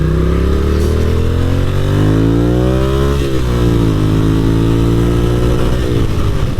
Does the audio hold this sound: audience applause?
no